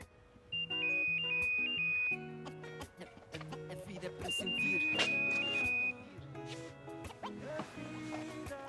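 A phone ringtone in a French-dubbed Portuguese drama series rings in repeated electronic bursts of a high bright tone, loud and close, with music underneath.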